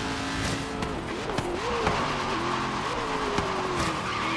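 A 2011 Ford Transit Supersportvan in Forza Horizon 3 loses grip, its tires squealing in a long, wavering screech over a steady engine drone, with a few sharp knocks along the way.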